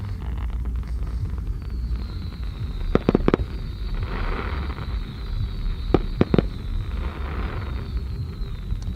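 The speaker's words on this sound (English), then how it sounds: "That is a serious fireworks show." Fireworks at the Burning Man 2023 man burn, a steady crowd-and-fire rumble with distant booms, a long whistling rocket, and sharp cracking bursts in pairs around three and six seconds.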